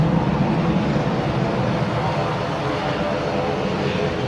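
A propeller aircraft at Manchester Airport, a loud, steady engine drone that holds constant and close throughout, with no voices.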